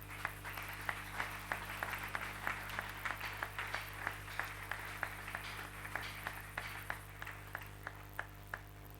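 A church congregation claps in a steady rhythm to acclaim the Lord, the sharp claps faint and distant over a low, constant hum.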